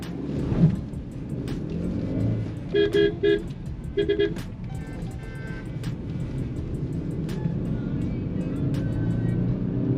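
A Maruti Suzuki Grand Vitara pulling away from a standstill, a steady engine drone building under road noise, with a few short horn toots from traffic early on and a voice speaking briefly.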